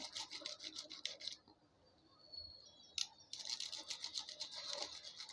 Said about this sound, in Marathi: इथे जी गॅप आहे ना त्याच्यातून असा कंगवा घुसवायचा आणि जो ब्रश आहे ना तो असा फक्त फिरवायचा